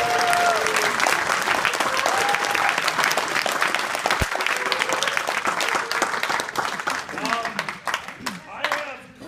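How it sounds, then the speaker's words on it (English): Audience applause at a live comedy show at Anthrocon 2017, a dense sustained roar of clapping with cheers that fades toward the end while voices come through. "Guys, give the buddy a round of applause."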